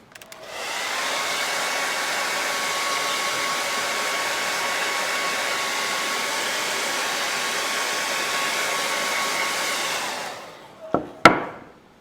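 A heat dryer blows a steady, loud whoosh for about ten seconds, drying stencil paint on handmade glittered Valentine cards, then switches off, followed by a couple of sharp clicks.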